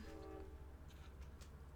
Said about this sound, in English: Train whistle, confirmation.